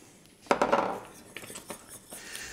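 Apple and horseradish stirred together in a metal pot for a creamy Tafelspitz sauce, a spoon clanking and scraping against the pot nearby, starting with a sharp clatter and followed by lighter taps.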